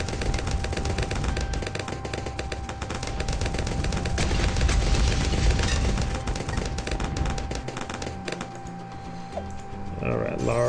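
A sniper monkey tower fires in Bloons TD 6, a rapid, continuous rattle of sharp clicking shots that runs loud for several seconds before thinning out near the end.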